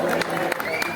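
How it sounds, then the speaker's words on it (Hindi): A crowd at a wedding reception party applauds in a brief burst of clapping, heard under someone speaking. "मेरे लिए एक बार अक्षरा जी के सम्मान में जोरदार ताली बजा दीजिए"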